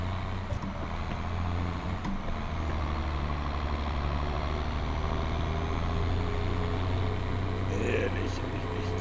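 Heavy truck rolling steadily in Farming Simulator 22 with a modded tyre sound, giving a continuous low engine and tyre rumble throughout, with a voice talking over it.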